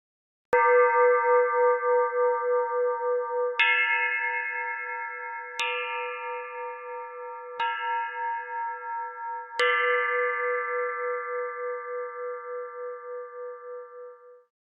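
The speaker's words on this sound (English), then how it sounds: "What you see in the image is a traditional oval-shaped two-tone Chinese bell, which is quite different than standard bells." A traditional oval-shaped two-tone Chinese bell is struck five times, each clear metallic strike ringing with a long sustained, slowly wobbling tone and overlapping decay, alone in silence.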